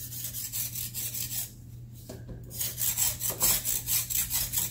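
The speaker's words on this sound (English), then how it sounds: "So I'm going to scrape all of the drumstick and wash it." A knife lightly scrapes the skin from a moringa drumstick, producing close, rhythmic rasping strokes in a steady series, with a brief pause midway before the scraping resumes.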